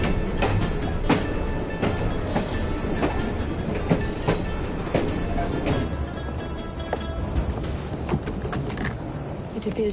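A train rolls along in the Assassin's Creed Syndicate video game, a steady loud rumble with repeated clickety-clack rail beats and mechanical rattles running throughout.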